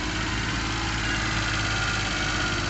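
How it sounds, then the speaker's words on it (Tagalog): Suzuki Scrum F6A engine idling high and misfiring, a loud continuous rough drone with an uneven, stumbling pulse, heard alone and up close. "kita naman natin na medyo palyado ang makina at mataas ang idling ngayon"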